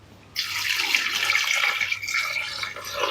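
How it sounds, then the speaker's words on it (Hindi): Water pours steadily into a pot of keema pulao already seasoned with spices and salt, a close, continuous splashing gush that starts abruptly and runs on alone. "और इसमें डालेंगे पानी"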